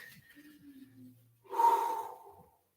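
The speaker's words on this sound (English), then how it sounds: "Take those nice deep breaths here." A single deep breath during a yoga session: one long, audible exhale or inhale rushes through after a quiet pause, close to the microphone and alone, with no speech over it.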